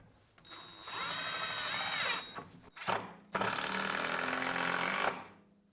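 A budget Bauer power drill drives Phillips-head cabinet screws. The motor whines loudly and steadily in two runs of about two seconds each, with a short pause and a clatter between them.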